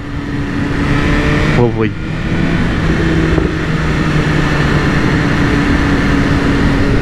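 A 2023 BMW S1000RR M-Sport fitted with a Racefit Growler X exhaust runs with a loud, close, steady engine roar, with a brief spoken word over it.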